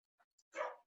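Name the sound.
dogs barking in the background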